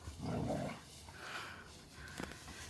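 Two competitive dogs play in tall grass, giving growly play vocalizations, huffs and rustling at moderate distance, with the sounds fairly faint and uneven.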